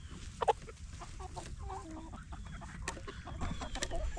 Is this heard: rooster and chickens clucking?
yes